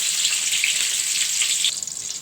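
Garlic cloves and green chillies hit hot oil with a bright, loud hiss of frying that holds steady, then eases slightly near the end of the short burst.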